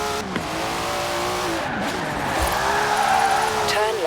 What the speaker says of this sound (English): Now let's really shred those tyres.